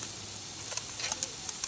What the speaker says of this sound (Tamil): இப்போ நம்ம வாஷ் பண்ணி எடுத்து வச்சுருக்க சிக்கனை சேர்த்துக்கலாங்க.